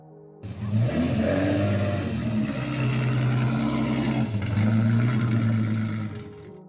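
The engine of an old, worn car that was just repaired roars loud and close as the accelerator is floored, growling in a sustained rev that swells and holds for several seconds.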